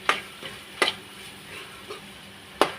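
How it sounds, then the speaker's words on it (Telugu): Mutton with masala and coriander fries on a high flame, with a low steady sizzle under a few sharp spatula scrapes or taps spaced irregularly, heard close and without talk. "స్టవ్ని హైలో పెట్టుకొని ఒక్క 2 నిమిషాలు ఇలా ఫ్రై చేసుకుంటే మన మటన్ ఫ్రై రెడీ"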